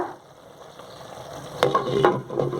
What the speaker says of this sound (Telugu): కారం అంతా బాగా కలిసేలా కలుపుకోవాలి